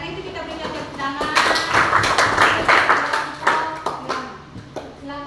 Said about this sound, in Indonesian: Karena itu kita berikan tepuk tangan.